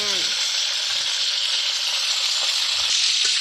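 Fish frying in a pan gives off a steady, close sizzle throughout, with a few faint clinks and a brief voice over it.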